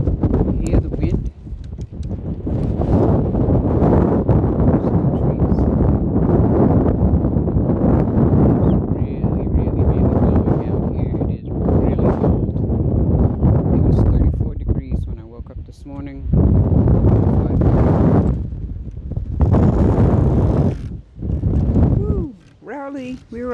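Strong winter wind gusting outdoors around a parked cargo trailer, a loud, steady broadband roar with buffeting on the microphone that swells and drops in gusts, briefly easing near the end.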